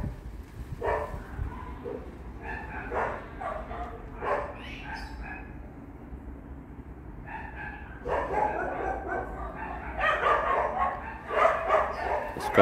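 Several dogs bark repeatedly in the distance, bursts of yapping and barking coming in irregular waves over a low steady background.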